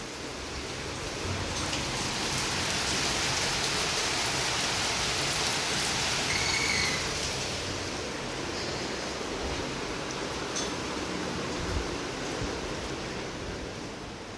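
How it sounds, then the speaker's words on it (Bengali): Steady, dense rainfall pours down continuously, a loud even hiss with no voices. "আর বাইরে মুষলধারে বৃষ্টি হচ্ছে"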